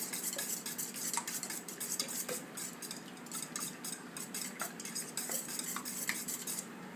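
A utensil stirs and whisks eggs in a bowl to mix the yolks through, with quick, rhythmic scraping and clinking against the bowl, close and fairly quiet, with no talk.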